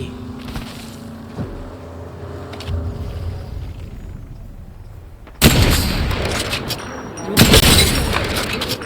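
Apex Legends gunfire bursts out in two loud clusters, a dense volley around the midpoint and another a couple of seconds later, over a quieter game backdrop.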